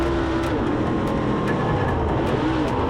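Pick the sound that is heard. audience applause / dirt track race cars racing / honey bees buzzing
dirt track race cars racing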